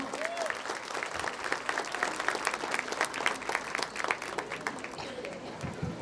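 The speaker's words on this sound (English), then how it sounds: "So I would like to hear another round of a big applause for them." Parents and guests at a preschool annual day gathering on a lawn give a round of applause for teachers and parents, sustained crowd clapping at moderate distance, steady and even, without clear speech.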